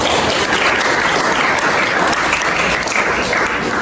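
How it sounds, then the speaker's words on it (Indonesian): Audience applause fills a classroom at the close of an Islamic religious education lesson presentation: steady, dense clapping from many hands, loud and close, running unbroken for the whole stretch with no talk on top. "Tepuk tangan dong untuk jawab."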